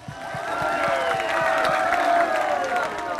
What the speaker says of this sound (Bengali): আপনারা সবাই জোরে একটু করতালি দিয়ে দেন প্লিজ